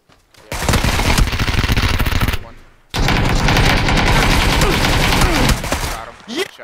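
Loud rapid automatic gunfire in a shooter video game comes in two long sustained bursts with a short gap between them, then a brief final shot, all close and dominating.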